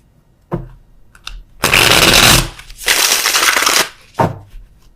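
Tarot cards being shuffled up close in two loud, riffling bursts, framed by softer taps and card handling.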